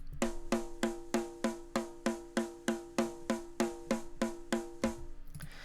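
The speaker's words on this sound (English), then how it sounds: "And then we add a little bit of distortion." Snare drum from Metallica's St. Anger, distorted in the mix, struck alone in a steady series of about fourteen evenly spaced, ringing hits with a pitched metallic tone.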